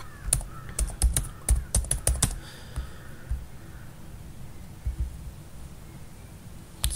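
Quick bursts of keyboard typing, close and clear, clattering for a couple of seconds before trailing off into quiet room tone.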